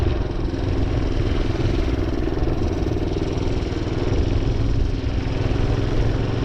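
A minibike engine runs steadily while riding on ice, a constant loud rough buzzing drone with clattering mechanical noise throughout, heard up close and without pause.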